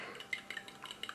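A fork whisks egg yolks in a bowl for cupcake batter, giving quick light clinks and scrapes against the dish in an uneven rhythm, close and fairly soft, with no voices.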